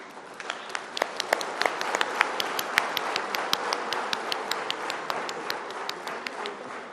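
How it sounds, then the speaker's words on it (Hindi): Standing audience applauding loudly in an auditorium, a sustained roar of many hands with sharp individual claps popping out repeatedly over the steady crowd noise. "आप खड़े होकर जोरदार ताली का ये करें।"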